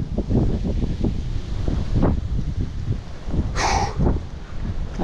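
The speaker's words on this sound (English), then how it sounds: "Alright, I'm about done with this wind." Strong outdoor wind buffeting the microphone while walking, loud gusty rumble with rustling bursts and no talking.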